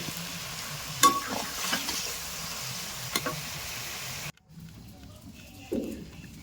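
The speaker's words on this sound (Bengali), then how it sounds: "মাছের ঝালের যে রসটা, সেই রসটা আমি একটুখানি কড়াইতে নেড়ে নেব" Soft scraping and stirring of fish curry gravy in a wok with faint sizzling, a few sharp clicks of a utensil, then a brief quiet pause.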